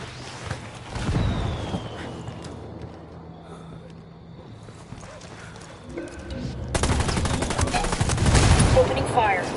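Bursts of gunfire in the video game Ghost Recon as rebels clash with a cartel: a loud volley near the start, a quieter stretch, then a heavy sustained fusillade of rapid shots toward the end.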